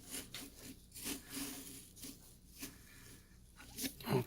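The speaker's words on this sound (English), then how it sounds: "I'm going to use a big saw on this one." Big saw from a pumpkin carving kit cutting through a pumpkin, giving soft rasping strokes in an irregular back-and-forth rhythm, close but fairly quiet.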